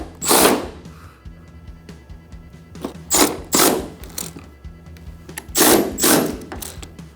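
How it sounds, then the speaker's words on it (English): An electric ratchet tightens bolts on the bed rails of a Ram 2500 Cummins diesel truck, giving four or five short, loud whirring bursts separated by quieter pauses, with no talk. "Now I'm going to tighten this one up. I'm going to grab my electric ratchet here."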